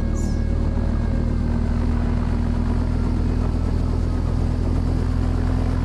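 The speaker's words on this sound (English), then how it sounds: "There's another problem about this helicopter. It takes like 2 years to start up." A helicopter starting up in the video game Oil Warfare: steady droning engine hum with a constant low whine, loud and unchanging throughout, like a rotor motor spinning up.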